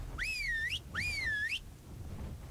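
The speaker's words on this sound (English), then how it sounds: "I don't want to whistle so close to my base." Two matching rising-and-falling whistles from a player character in the game ARK: Survival Evolved sound in quick succession, clear over a faint low hum.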